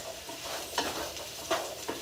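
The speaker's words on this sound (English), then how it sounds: "I'm going to stir everything up a little bit." Sliced sweet potatoes being stirred in oil in a pan, a faint steady sizzle broken by a few soft scraping strokes of the spoon, heard close with no talking.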